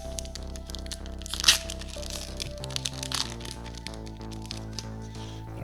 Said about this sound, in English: This is a set booster, so let's crack this open